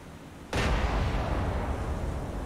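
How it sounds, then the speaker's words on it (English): A warship's guns firing in the War On The Sea naval game: a single sudden, loud, deep blast followed by a long rumbling roar that fades slowly, with no voices. "Fire the guns!"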